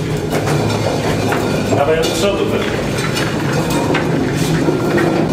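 An old rail cart in Maginot Line fortifications rumbles along tracks with steady rattling and occasional metallic squeaks, loud and close, while a person speaks over it.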